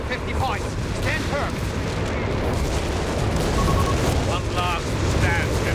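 Zeroing artillery barrage from Company of Heroes 3, a 2v2 match, with rumbling booms and explosions rolling under continuous game effects and chirping interface noises, while voices talk over the action.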